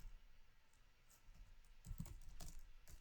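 Typing on a computer keyboard, a quick run of light key clicks close by, faint at first and then briefly busier and a little louder toward the end.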